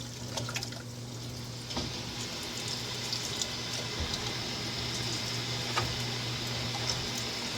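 Hot water runs steadily into a canning pot before plums are canned, a continuous moderate hiss and splash with a low steady hum underneath, and no talking.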